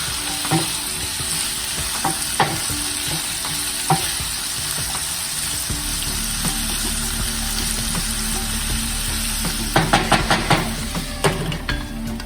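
Onions sautéing with fresh garlic and ginger in a home kitchen pan for chana masala, a steady close sizzle and fry with occasional stirring scrapes, busier clatter near the end, no talking.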